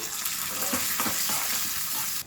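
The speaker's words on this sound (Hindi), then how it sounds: "अब मैं किशमिश को फ्राई कर दूंगी।" Raisins fry in a pan with a dense, steady hiss that runs unbroken for the whole stretch, with a couple of faint stirring touches underneath before it cuts off abruptly at the end.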